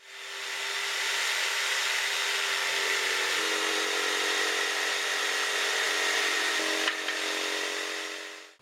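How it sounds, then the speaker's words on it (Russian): Electric jigsaw cutting through an oak board for a barrel bottom, a steady loud motor whine with buzzing blade chatter that shifts pitch slightly as the cut progresses, then winds down at the end. "После нанесения контура можно выпилить днище, используя электрический лобзик."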